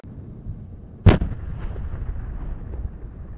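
A single sharp, loud blast of gunfire cracks out about a second in at a US Army demolition training range in Adazi, Latvia, then fades into a low rumbling echo over a quiet outdoor background.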